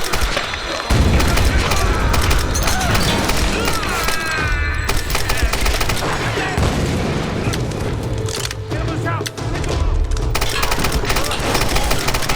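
Gunfire from a weapon in the video game Tomb Raider, dense continuous bursts of shots and booms filling the whole stretch, loud and close, with someone speaking briefly over it.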